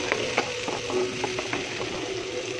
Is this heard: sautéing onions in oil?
yes